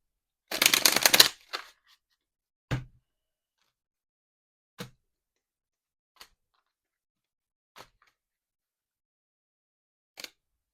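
Tarot timing cards are shuffled in one brisk riffle-like burst at close range, followed by a handful of single soft taps and card snaps spaced apart in a quiet room.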